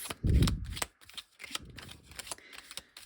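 Tarot cards being shuffled by hand, a dense riffling flutter up close followed by a run of lighter card slaps and sliding, fairly quiet with no talking.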